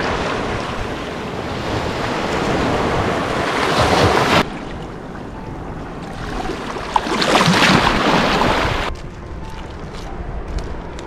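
Ocean surf rolls onto a rocky, remote Olympic National Park coastline, with continuous loud wave wash and surging swells, heavy wind buffeting the microphone throughout.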